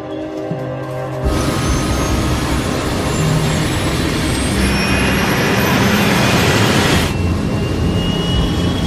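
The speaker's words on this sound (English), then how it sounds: "Engines are fine, speed increasing." The engines of a Concorde jet roar into a loud, steady full-power rush as it begins its takeoff roll, a broad continuous blast that holds for several seconds, close and overwhelming.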